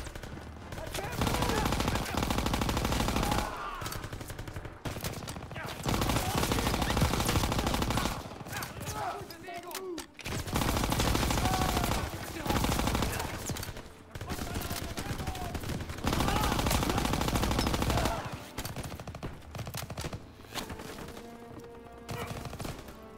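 Heavy machine gun fire in the Call of Duty: WWII level Collateral Damage, long loud sustained bursts separated by brief pauses, with shouted voices and battle noise in between.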